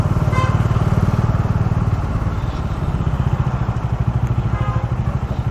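A BS6 Bajaj Dominar 400 motorcycle engine idling at a busy toll booth queue, a steady loud close-up thump with a regular pulsing beat and light mechanical clatter.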